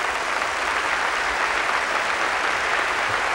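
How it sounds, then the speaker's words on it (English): A seated audience applauds at a Red Skelton comedy show in 1984, a dense, steady wash of clapping from many hands that holds at full strength throughout, with no talk over it. "You can stand and get your applause"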